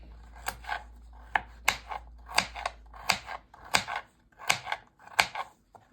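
A kitchen knife dices carrots on a cutting board for vegetarian chili, with about ten crisp, evenly spaced chops and a slight pause partway through, close and clear with no voices.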